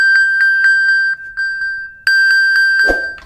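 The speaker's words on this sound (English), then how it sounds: "the iPhone is now vibrating and making a sound as well" An iPhone plays the Find My ping: a loud series of bright, evenly spaced chimes, paused briefly and then repeated. A short rustle or thump near the end breaks in as the phone vibrates.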